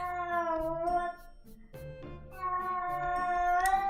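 A cat gives two long, tonal meows separated by a short pause, close and loud, with a small click or noise in between.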